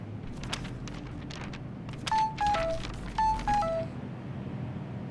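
A short two-part electronic phone message notification tone sounds twice in a row, with bright descending beeps over a quiet room background.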